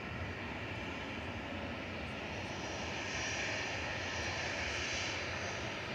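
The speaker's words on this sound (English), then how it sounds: "And Ryanair's just arrived in the background." A Ryanair Boeing 737-800 arriving at Manchester Airport from Dublin gives a loud, steady broadband jet roar that swells slightly midway, close and continuous with no talk over it.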